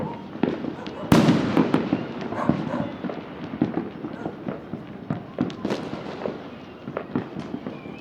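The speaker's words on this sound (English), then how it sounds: "Where they get this many fireworks is beyond me." Fireworks bursting over Cuenca, Ecuador on New Year's Eve, with repeated sharp bangs and crackles at uneven intervals, one big close blast early on, and others near and far, over a constant background rumble.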